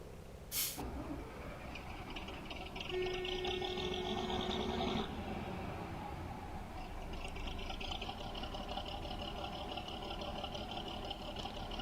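A Bizon Z083 Gigant combine in Farming Simulator 17 starts up with a sharp click, then a rising mechanical whine and hissing engine that settles into a steady idle rumble, alone without talk.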